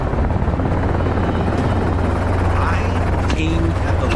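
Steady helicopter rotor thrum with a low, constant drone throughout, fairly close and loud, a brief higher whine near the end, during a wild boar hunt from the helicopter.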